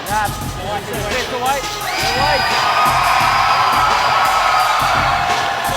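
A wrestling crowd in Christchurch cheers loudly for a hometown wrestler, with shouts and whoops rising into a sustained roar of many voices while a commentator talks briefly at the start.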